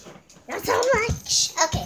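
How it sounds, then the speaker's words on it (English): A pet dog at home gives a couple of short whimpering yips and barks up close, mixed in with a person speaking briefly over the sounds. "And I'll show you my dog"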